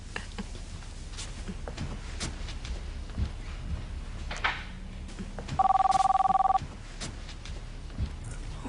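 A telephone rings once in a short electronic trill, clear and moderately close, in a quiet indoor room with faint background noise and no talking during the ring.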